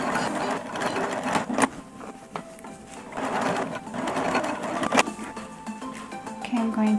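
A sewing machine runs in bursts, top stitching a drop cloth bucket hat, its rapid mechanical whirr rising and pausing close by while a person talks over it.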